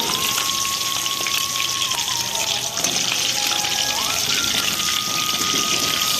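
Fish frying in hot oil in a home kitchen, a steady dense sizzle filling the whole clip, with a faint thin whine running through it.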